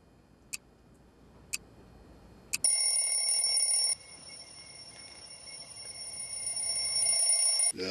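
A mobile phone rings in an anime scene, a few short ticking clicks leading into a bright, high electronic ringtone that chimes steadily for several seconds.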